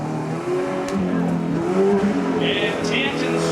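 A demolition derby car at a speedway churns through a mud pit, its engine droning and revving steadily under a loud announcer's voice.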